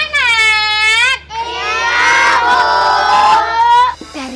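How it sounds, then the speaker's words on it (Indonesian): Children's voices shout and wail loudly in a sustained, overlapping burst lasting several seconds, then break off abruptly with a short shriek near the end. "Dari jauh ibu dengar ada yang teriak."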